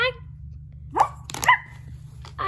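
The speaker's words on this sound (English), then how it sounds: "It's a wolf. Don't worry, it's just a dog." A video-game dog in Dreamcatcher Stables barks a few short, sharp times, spaced apart over a quiet background hum.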